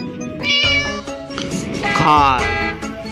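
A cat meows repeatedly, several drawn-out, wavering cries close by, loud and clear.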